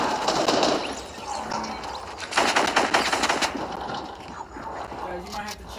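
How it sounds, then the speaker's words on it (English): Rapid automatic gunfire from the video game Fortnite in bursts, loud and close, with a steady clatter that swells again midway and tapers off near the end. "Are you shooting me down?"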